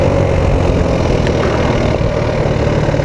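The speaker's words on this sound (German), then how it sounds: "Ich gehe nochmal von Gas." A Rex RS 700 scooter engine drops to a steady, low rumbling drone as the throttle is released on a road ride. It is continuous and close, with no voices.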